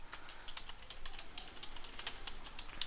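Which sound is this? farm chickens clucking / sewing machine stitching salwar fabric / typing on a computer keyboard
typing on a computer keyboard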